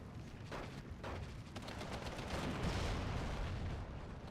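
Faint, distant machine gun fire in Steel Division 2 plays as a steady rumbling stream of rapid bursts and crackling shots, continuing without a break and with no talk.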